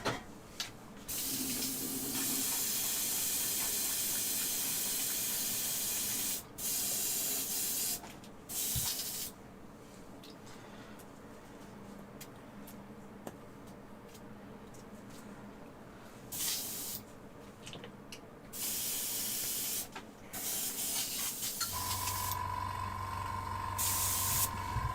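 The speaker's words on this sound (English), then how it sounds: "I have nothing to spray black other than my metal board." A spray can hisses in repeated long bursts while black paint is sprayed onto models, steady and near with short pauses between passes, and a tonal hum near the end.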